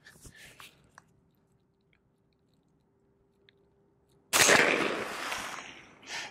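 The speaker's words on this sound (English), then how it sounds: "We have some 165 grain Federal 40 coming out of this 8-inch CMMG Banshee barrel" A single loud gunshot from a 165 grain Federal .40 round fired through an 8-inch CMMG Banshee barrel cracks out sharply after a quiet stretch, followed by a decaying, noisy tail with rustling and clatter.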